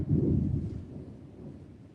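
A deep rumble of thunder from a heavy rainstorm with a tornado threat rolls in loud at first, then fades into a softer, lingering low roar.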